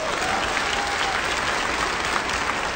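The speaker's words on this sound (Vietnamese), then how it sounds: "Xin quý vị giúp tôi cho thêm tràng pháo tay thật lớn," An audience applauds steadily, a dense wash of clapping throughout the short stretch with no speech over it.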